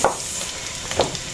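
Chopped onion sizzles in a hot pan while being cooked for papaya lumpia, a steady close frying hiss with two brighter spits near the start and end of the short stretch.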